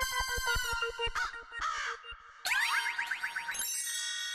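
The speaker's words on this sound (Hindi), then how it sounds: "लीजिए, कौवे तो आ गए।" Crows cawing in a cartoon palace scene, a series of harsh, repeated caws in quick bursts, some rising and springy, loud and close with no talk over them.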